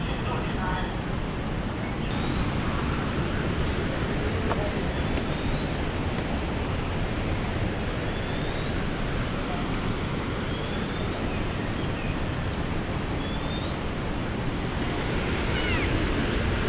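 The Huangguoshu waterfall in Anshun, Guizhou gives off a loud, unbroken roar of falling water. It holds steady for the whole stretch, dense and close, with faint high chirps now and then over the rush.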